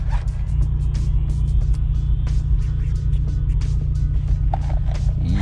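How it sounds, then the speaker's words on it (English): A ten-year-old Mazdaspeed 3 cruises along with a steady, loud low engine and road rumble inside the cabin, while faint small clicks and rattles sit on top. "I'm just gonna be driving right now."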